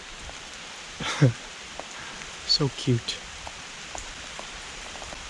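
Steady rain patters across a lake in the Ontario back country, a soft even hiss, while a person speaks briefly over it a few times.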